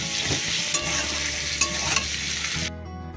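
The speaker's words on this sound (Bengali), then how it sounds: "এখানে আলু ভাজাটা আমি বসিয়ে দিয়েছি" Potatoes fry in a pan with turmeric and salt, giving a steady, close sizzle with occasional stirring scrapes that runs continuously before cutting off abruptly near the end.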